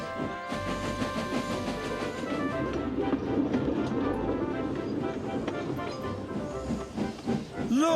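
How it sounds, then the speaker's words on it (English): A steam engine in the Trainz simulator rolls into a station with a hissing, rumbling mix of steam and rolling noise, a steady moderate wash throughout, ending in a rising squeal. "They chuffed gently into the station."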